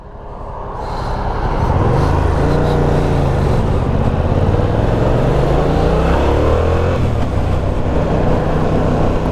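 A Yamaha MT-07 motorcycle accelerating hard on an open road, engine pitch climbing steadily through the revs in a loud, close roar with wind rush, no talk.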